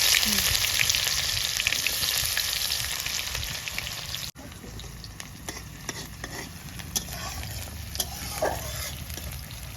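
Onions and cumin seeds frying in hot mustard oil with bay leaf, a steady close sizzle and hiss with scattered spoon scrapes and clinks; the sizzle drops briefly midway, then continues more softly with occasional stirring taps.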